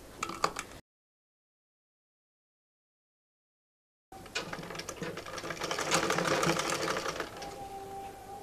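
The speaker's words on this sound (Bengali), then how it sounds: "তারপর সাইড থেকে এইভাবে করে সেলাইটা করব" A sewing machine stitches along the side seam of folded fabric for a palazzo, first a short burst, then a pause, then a longer steady whirring run of close mechanical stitching with no voice.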